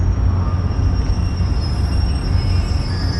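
Loud, steady rumble of a train rolling slowly into Hoboken Terminal, New Jersey, with a thin high metallic whine from the wheels running throughout.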